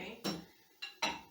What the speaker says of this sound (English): I'll take my spatula and just peel all that goodness out of there